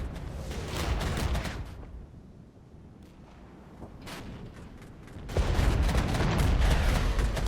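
Cluster strike and tank gunfire in the wargame Regiments: dense rolling booms and crackling impacts, easing off midway and then surging back into a loud, sustained barrage at close range.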